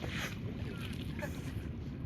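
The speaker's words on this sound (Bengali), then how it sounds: "এই যে কত জাহাজ যাচ্ছে দেখা যায়নি" Ships passing on a river near a village, heard as a low, rumbling drone under buffeting wind noise, with a person talking over it.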